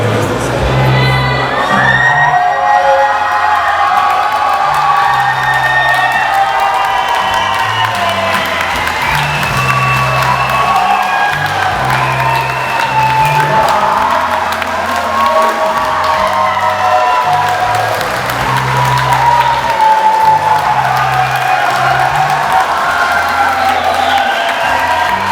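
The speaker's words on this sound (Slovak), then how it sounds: "Myslím, že toto si zaslúži veľký potlesk!" A crowd at an engagement celebration during a St. Stephen's Day dance party cheers, whoops and applauds loudly, with excited shouts rising over a thumping music beat that continues steadily underneath.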